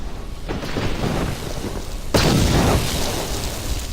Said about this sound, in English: And there are all the nice explosions